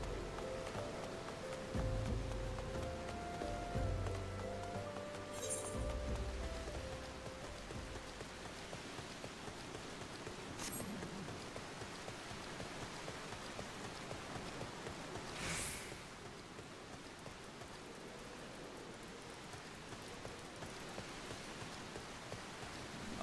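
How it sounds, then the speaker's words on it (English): Steady rain falls in the video game Final Fantasy XIV, a continuous soft hiss of drops pattering on surfaces throughout, fairly even in level with no voices over it. "Too bad it's raining and I can't really see very far off of it."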